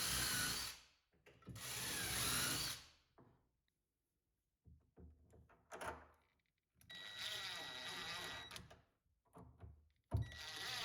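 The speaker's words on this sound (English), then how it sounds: "A self-centering bit fits in the holes in the jig to drill the holes in the cabinet." Power drill with a self-centering bit boring hinge holes in a garage cabinet through a jig, in several loud whirring bursts with short pauses and light clunks between runs.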